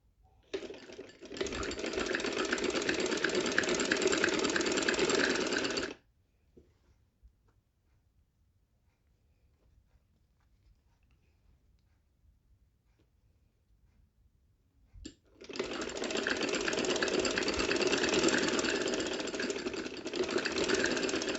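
A sewing machine stitching fabric for a trouser poncha runs in two steady, close, buzzing bursts of about five seconds each, separated by a long silent pause.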